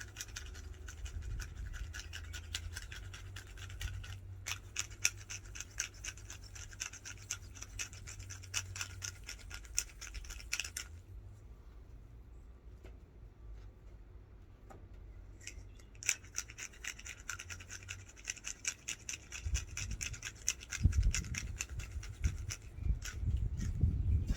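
Hand-cranked pepper grinder grinding pepper onto both sides of pork steaks for barbecue, a close, steady scratchy crunching in long bursts with a pause midway.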